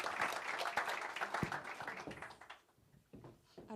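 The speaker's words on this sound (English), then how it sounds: "Please give a warm round of applause to the acting president of Athletics Free State" Audience applause at a running-series press conference, a burst of clapping that fades toward the end, with faint voices underneath.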